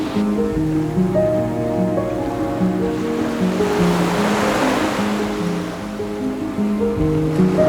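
Ocean surf washes onto a beach in Olympic National Park, a soft, continuous hiss that swells midway, heard under a steady melodic music track.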